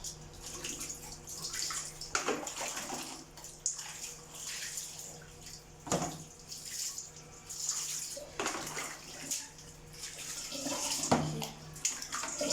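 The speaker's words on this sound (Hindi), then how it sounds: "आराम से आप ऊपर से पानी डालिए कि उसके कान में ना जाए।" Water pours and splashes steadily during a newborn baby's bath, with a few louder gushes and no talking.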